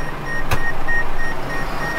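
A Massey 6S baler gives short, evenly spaced electronic beeps over a steady engine rumble during manual binding, with one sharp knock near the start and no talking.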